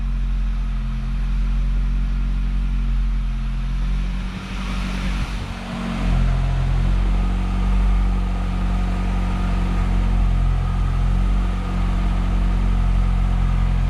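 Opel Astra G with a 1.2 petrol engine idling steadily at close range, a continuous low hum with a brief dip and change in tone midway before settling back into an even idle.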